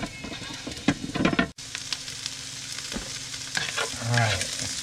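Zucchini chunks cooking in a pan while being stirred, a steady sizzle with a few scrapes and clatters, close-up and moderately quiet, with a brief dropout near the start and no clear speech.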